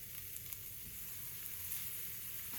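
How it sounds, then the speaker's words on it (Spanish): Chopped garlic, a couple of cayenne peppers and half an onion soften in olive oil in a frying pan, giving a faint, even, steady sizzle with no distinct bursts. "Echamos un par de cayenas, media cebolla picada y dejamos pochar"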